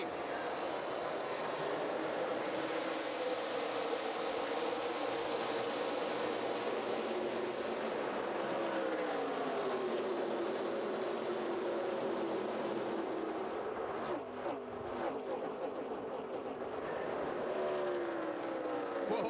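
Stock cars in a 2012 NASCAR Nationwide Series race, the Indiana 250 at Indianapolis's Brickyard, roar steadily down the front stretch as a dense, continuous engine drone that swells and shifts as the pack passes.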